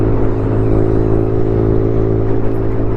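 Loud, constant engine drone and wind rush from a TVS Raider motorcycle at speed on a highway, an even sustained hum throughout with no talk.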